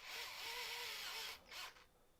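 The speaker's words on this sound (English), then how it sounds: "So all I need to do is attach my drill to that" Cheap Bunnings cordless power drill whirring steadily at close range for over a second, its tone shifting slightly, then cutting out, briefly revving again and stopping, with no talking.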